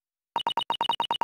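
Beeping in The Great Ace Attorney game sounds like Morse code, with nine short, evenly spaced electronic beeps that start after a brief silence, close and distinct.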